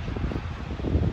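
Wind gusts outdoors in bad, cold weather on a road through Ossetia and Ingushetia, a steady rough rumble buffeting the microphone up close, with no talk.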